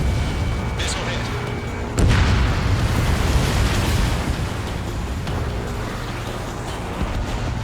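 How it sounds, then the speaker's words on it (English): A missile strikes a target in the Ace Combat 7 flight game with a sudden loud boom that rumbles away beneath steady jet engine roar, while radio voices talk over it. "Missile hit."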